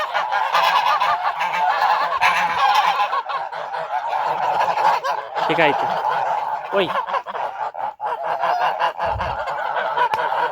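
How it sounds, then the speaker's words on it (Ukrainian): Farmyard flock of domestic geese honking loudly and steadily nearby, while someone speaks briefly over the clamour. "Такий гусячий табун."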